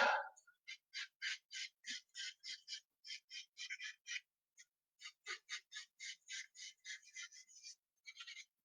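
Small birds chirp and squawk in a tree near a backyard bird feeder, a long run of rapid, fairly close calls with a brief pause midway and no talking.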